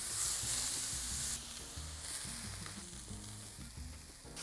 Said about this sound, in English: anytime you're laying down something on a very hot surface like this, always lay the meat away from you so you do not burn yourself